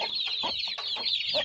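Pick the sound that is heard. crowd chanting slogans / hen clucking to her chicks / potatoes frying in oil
hen clucking to her chicks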